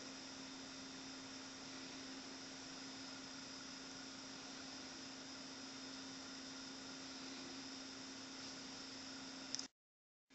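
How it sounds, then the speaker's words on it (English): Small homemade magnet motor built as a desktop toy running steadily, a faint continuous whirring hum with a constant tone that cuts off abruptly near the end. "is a little motor that I'm building just as a desktop toy."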